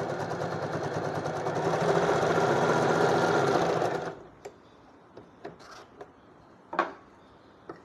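An industrial sewing machine runs a side seam about 6 mm from the edge, whirring loudly and steadily for about four seconds before stopping, followed by a few sharp clicks and taps from handling the fabric.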